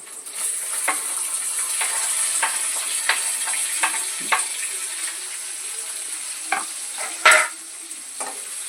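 Onion hits a hot tempering of curry leaves, chilli and urad dal for upma, giving a steady close sizzle broken by scattered stirring scrapes and taps, with no voices.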